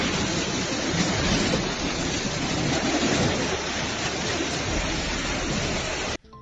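Heavy rain from the remnants of Typhoon Kajiki over northern Thailand pours down as a dense, loud, broadband hiss of water, continuous and close, ending with an abrupt cut.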